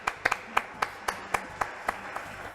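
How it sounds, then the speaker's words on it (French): Studio audience on a French TV game show clapping in unison, about ten evenly spaced, crisp claps in a steady rhythm. "D'accord, les applaudissements pour Philippe Tanneau."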